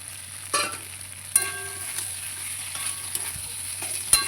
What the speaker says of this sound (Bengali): দু তিন মিনিট মতন ভাজবো এই যে গুগুলিগুলোও দিয়ে দিলাম